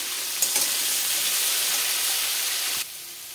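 Potatoes frying in hot oil with a pinch of asafoetida, a steady loud sizzle with brief spoon clatter near the start and the hiss dropping slightly toward the end.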